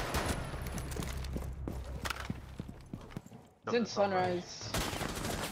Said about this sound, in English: I'm just being shot from above.